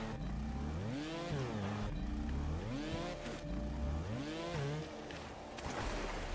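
Motorbike engine in the video game Trials Fusion revving at full throttle, a whining tone that repeatedly sweeps upward in pitch and drops back in rhythmic surges, loud and continuous with no talk.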